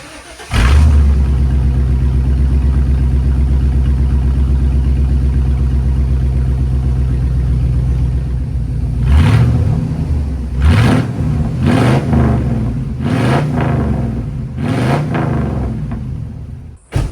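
An OBS crew cab pickup truck with its stock OEM muffler and tailpipe idles with a deep, steady rumble, then gets several sharp throttle blips that rise and fall in quick succession.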